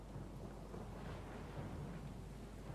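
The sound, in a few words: loud storm with thunder in a video game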